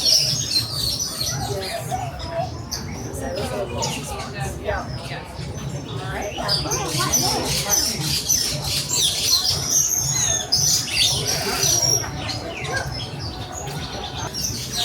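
Birds in the Animal Kingdom aviary chirp and tweet throughout, with high, scattered calls over a steady background murmur of visitors and ambient noise.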